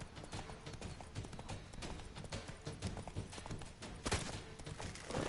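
Horse hooves clip-clop in a PS4 video game, a brisk continuous run of close, fairly loud hoofbeats with occasional heavier thumps and no talking.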